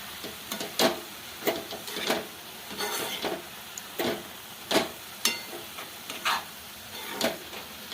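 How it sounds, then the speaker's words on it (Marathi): Spring onion greens frying in oil in a pan, stirred with a spoon: a soft, continuous sizzle broken by sharp, irregular scraping and clinking strokes of the utensil against the pan, close up with no talking. "चांगली तेलामध्ये परतून घ्यायची आपल्याला पातीला"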